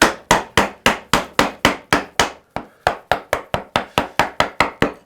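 A wooden mallet drives a chisel, bevel down, into a board with about eighteen sharp, close, evenly spaced knocks and one brief pause partway through.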